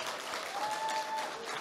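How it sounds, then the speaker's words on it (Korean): An audience claps at an industrial accident and occupational disease prevention seminar, a moderate, even patter of hands with a faint steady tone running through it. "큰 박수 부탁드리겠습니다."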